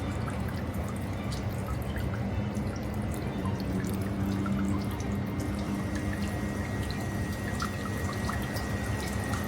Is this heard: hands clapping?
no